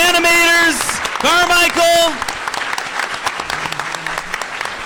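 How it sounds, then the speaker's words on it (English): Applause from a convention panel audience at RTX 2017 rises under a loud singing or whooping voice at the start, then continues as scattered, fading clapping from the crowd. "One more big round of applause for these amazing performers, the animators, Carmichael."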